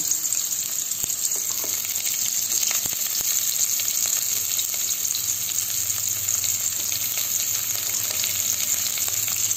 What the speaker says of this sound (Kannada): ಈರುಳ್ಳಿ ಹಾಕ್ತಿದ್ದೀನಿ.